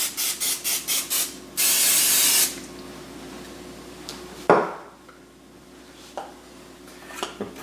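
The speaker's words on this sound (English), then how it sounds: "spray olive oil." Olive oil sprays onto vegetables in a kitchen: a run of short rapid spritzes, then one longer sustained hiss, followed by a quieter stretch with a few light clinks of a pan or dish.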